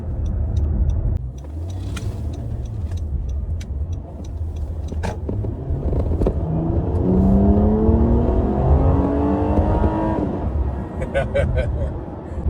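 A 2013 Honda Accord with a 3.5-liter V6 pulls hard under acceleration while driving, its engine note climbing steadily in pitch through a long rising sweep before easing off; continuous road and engine noise fills the background while a person talks over it.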